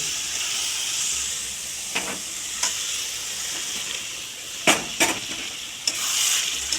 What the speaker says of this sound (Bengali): চিকেন দেওয়ার পর এবার ভালো করে কষানো হবে